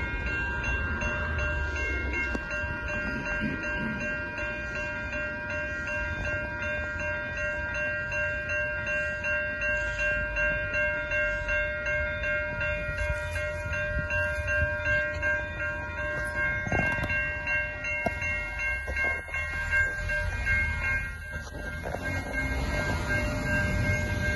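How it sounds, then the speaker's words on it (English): A West Coast Express commuter train rumbles past continuously at close range in Mission, British Columbia, with rolling wheel noise, metallic tones and a brief horn-like blast midway. "West Coast Express train coming."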